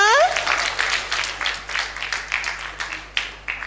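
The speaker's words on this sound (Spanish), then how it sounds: "Aplauso para Ziona." A church congregation claps in applause at a vacation Bible school closing service, a steady stream of overlapping hand claps at moderate volume, with some speech mixed in and a whistle-like rising tone at the start.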